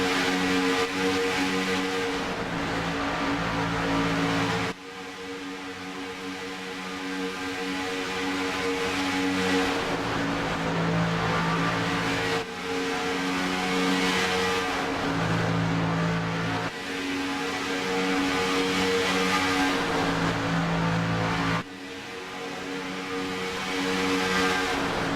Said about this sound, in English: there's no finer sound than the horsepower of these Xfinity class cars